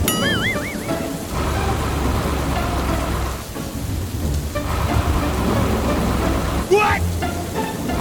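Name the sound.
rain in a dark forest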